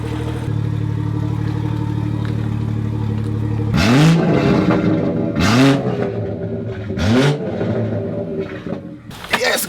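Revving from a 2018 BMW M140i engine, a steady idle hum that breaks into three sharp, loud blips of the throttle, each climbing and falling, with a fourth starting at the end.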